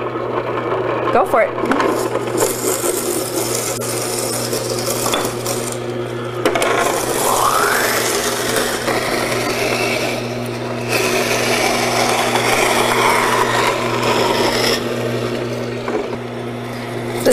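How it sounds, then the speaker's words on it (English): A Greenstar juicer running with its safety hood on and crushing produce for juice: a steady motor drone under rubbing, grinding churn that shifts in texture as it goes. A voice speaks briefly. "Now it's time to make the juice. Turn on the Greenstar and"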